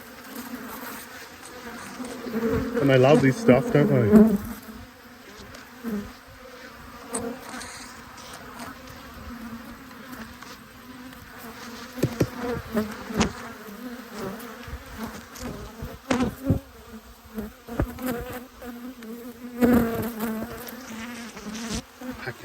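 Honeybees fly around a backyard hive fed a banana-based supplement, a steady buzzing swarm close by with rising bursts as bees pass near, while a person speaks briefly partway through.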